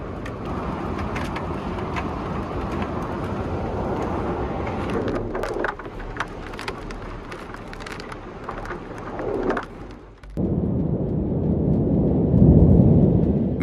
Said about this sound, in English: The storm in College Station, Texas didn't just bring rain, it threw golf ball-sized hail as tornado sirens wailed the sky